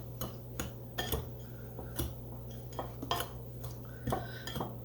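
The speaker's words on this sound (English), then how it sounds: "gadget I'm using here, or kitchen tool, it's called a Dutch or a Danish whisk." A Danish whisk works through a mixture in a bowl for a rhubarb-raspberry crisp, giving repeated light metallic clinks and taps against the bowl at a steady, brisk rhythm, close and fairly quiet.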